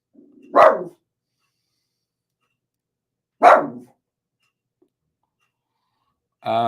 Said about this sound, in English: Ray, don't bark now.